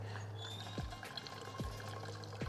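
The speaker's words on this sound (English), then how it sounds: "get some water in both of these, try and get some water going up in here." Water pours into containers being filled for a car wash, a soft steady trickle with a few gurgling glugs, faint and distant under a low background drone.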